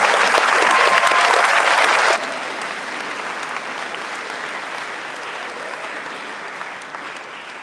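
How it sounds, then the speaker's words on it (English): An audience at a school ceremony applauds the outgoing student officers, loud dense clapping that drops abruptly to a softer, steady round of applause that carries on to the end. "We applaud all three of you for your service to the community."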